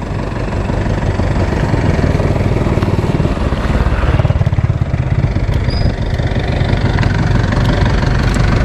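A motorcycle engine chugs loudly and close by, idling with a steady throb for the whole stretch.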